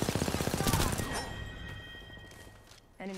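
Automatic gunfire in Apex Legends sounds as a rapid, evenly spaced string of shots for about a second, then fades into game ambience, with a short sharp sound near the end.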